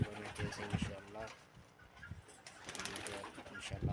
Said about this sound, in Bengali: এটা আমার কবুতর।